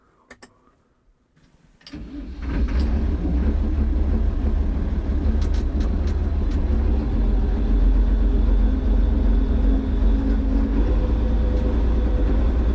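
A cold TS115A tractor engine with the throttle pulled back starts after a short quiet moment, then runs as a loud, close, uneven low rumble that continues steadily to the end.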